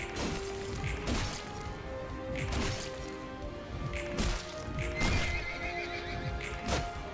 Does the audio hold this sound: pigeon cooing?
no